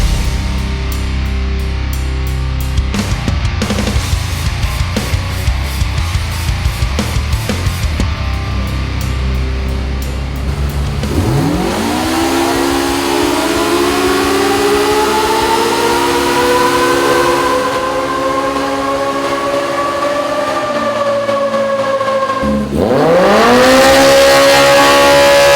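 A Polaris RZR Pro R off-road vehicle with an MBRP exhaust revs repeatedly, then climbs in pitch through long, loud accelerations with a throaty exhaust note, close by and without talk.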